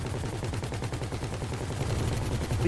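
Rapid gunfire from GTA V rattles on continuously in a dense, loud stream of shots during an airplane race event, with a low rumbling backdrop and no pauses.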